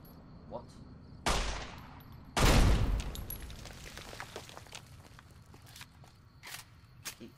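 Pistol shots in Fallout: New Vegas, two loud sharp reports with a booming tail, followed by faint clicks, scattered taps and soft game ambience.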